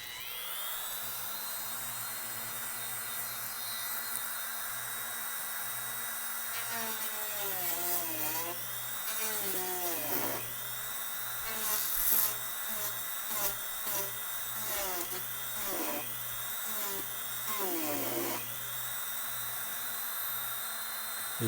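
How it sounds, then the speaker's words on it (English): Whining rotary Dremel tool grinding the edge of a PVA glue-sealed Boba Fett helmet, a steady high-pitched motor tone broken by repeated short bursts of cutting as the bit bites and releases, close and fairly loud. "I think I can do that with the Dremel"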